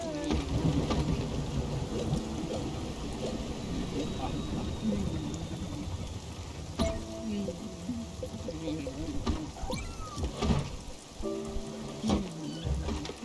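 Steady rain and rumbling thunder roll through a stormy sea scene in the Spiritfarer video game, a constant wash with occasional sharper cracks, while a person talks over it.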